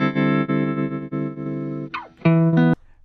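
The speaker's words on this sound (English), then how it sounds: "the magnetic is basically an emulation of magnetic tape, and you can add dropouts, which makes the sound like dropping off" A music sample passed through the RC-20 Retro Color plugin's magnetic tape emulation with dropouts, a sustained harmonic tone that wavers and briefly cuts out and warbles before a final bright swell, with no voices.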